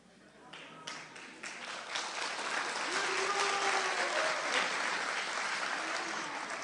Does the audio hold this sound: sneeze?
no